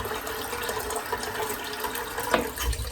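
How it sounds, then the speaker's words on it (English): A boar-bristle shaving brush, a Semogue Owners Club Taj Premium, rinsed under a running tap, giving a steady close hiss of flowing water with a brief splashy burst near the end. "I've rinsed the brush out."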